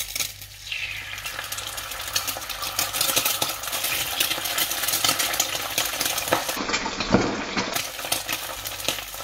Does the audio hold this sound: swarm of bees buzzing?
no